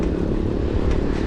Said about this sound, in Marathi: नकली सायलेन्सर नाव आवाज काढतोय.